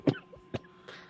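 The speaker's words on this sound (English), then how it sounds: "Coughing." Two short, faint coughs come a half second apart, followed by a softer throat-clearing rasp, with no talk.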